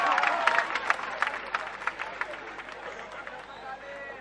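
A crowd at a political public meeting claps in a burst of applause, dense at first and then thinning into scattered claps, with chatter mixed in.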